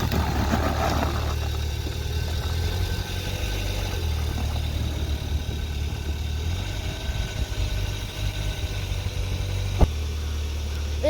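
A running ATV engine rumbles steadily and close by as the quad is driven onto a tire to break the bead seal, a low continuous drone with slight shifts in load and a brief knock near the end.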